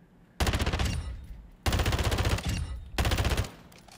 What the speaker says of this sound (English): Let's check out the new assault rifle, too. We have the FR Avancer right here.